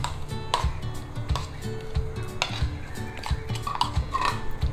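Ground mint chutney is scraped and spooned from a blender jar into a bowl, making close clinks, taps and scraping knocks in an uneven rhythm, with no talking.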